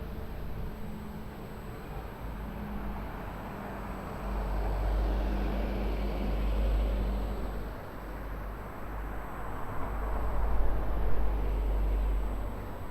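Jet airliner departing runway 02 at Lisbon Airport, a steady broadband roar with deep rumble that builds slightly over the span, continuous and moderately distant, with no talk over it.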